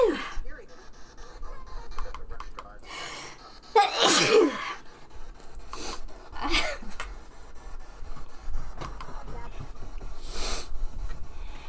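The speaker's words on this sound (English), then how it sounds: "I don't want to sneeze." A single sharp human sneeze bursts out near four seconds, loud and close, with quieter breathing, sniffs and scattered talking around it.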